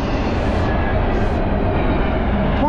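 A Norfolk Southern intermodal freight train, 24X, led by an AC44C6M locomotive, passes on the Lehigh Line on a winter morning: a loud, close, continuous roar of wheels and rail noise, with a brief squeal at the end.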